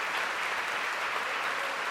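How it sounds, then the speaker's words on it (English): Audience applause at Wigmore Hall after a baritone's song recital with piano, a dense, even wash of many hands clapping continuously, steady and moderately loud without voices. "He's acknowledging the applause"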